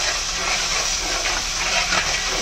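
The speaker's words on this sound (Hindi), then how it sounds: "जिंजर गार्लिक पेस्ट डालने के बाद आपने फिर से भूनना है, अच्छी तरीके से भूने, जैसे कि मैं भूनना हूँ।" Mutton frying with ginger garlic paste for Kashmiri rogan josh, a loud, dense, continuous sizzle with a steady hiss throughout and no distinct breaks.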